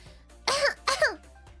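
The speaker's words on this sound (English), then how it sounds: "Oh my god, my cough." Two sharp, raspy coughs in quick succession, close and fairly loud, with quiet room noise around them.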